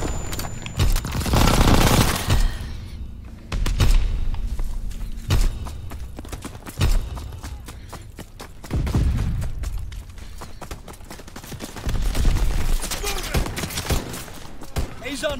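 Shotgun fire in a large-scale multiplayer shooter game as a point is captured, bursts of gunfire and booms recurring through the clip amid battle noise, with voices talking over it.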